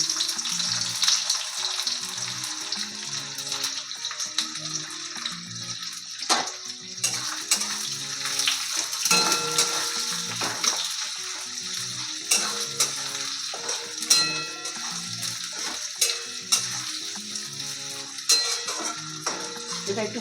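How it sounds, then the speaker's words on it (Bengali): Chopped onions frying in ghee in a kitchen pan, a soft continuous sizzle with frequent clinks and scrapes of a utensil against the pan, close and moderately quiet, over a low tonal background. "এবার আমি পেঁয়াজ কুচিগুলো দিয়ে দেবো।"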